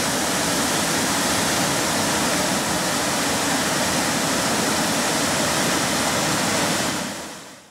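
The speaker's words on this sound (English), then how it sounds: "We are back at the waterfall, which led to our campsite." A waterfall near a campsite on a Colorado hike roars as a dense, steady rush of water that stays loud and close throughout, then fades away briefly at the very end.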